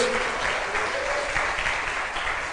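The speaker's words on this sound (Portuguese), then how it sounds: "Aplauda ao Senhor nesta noite, porque a sua vitória vem de Deus." Church congregation applauding during an evening service, loud sustained clapping from a large group with a faint voice or tone briefly audible beneath it.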